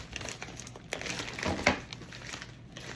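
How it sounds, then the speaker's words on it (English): A plastic shipping bag from an online order is opened by hand, with close crinkling and rustling and one sharper crackle partway through. "I try not to tear up the bag because I might need it to send items back"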